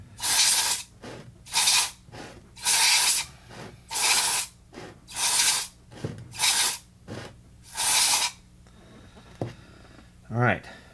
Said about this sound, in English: Spray it with the contact cleaner one more time.